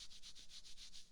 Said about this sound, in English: rubbing clothes and everything